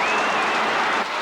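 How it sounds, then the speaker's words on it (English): Large crowd at a 1981 VFL Australian football match roaring and cheering in a dense, loud, sustained wash of noise. "Listen to the crowd."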